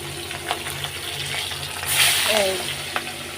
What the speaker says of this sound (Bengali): তখন আমি হাতটা ধুয়ে নিই